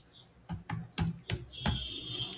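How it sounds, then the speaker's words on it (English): A few separate keystrokes on a Windows computer keyboard, sharp clicks in an uneven rhythm close to the microphone, with a faint tone lingering near the end. "And after typing prefetch,"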